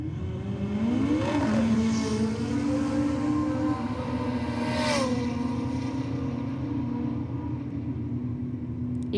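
Datsun and Falcon drag cars racing side by side down the strip at Sydney Dragway, engines roaring loud and steady with rising revving tones throughout, no talk.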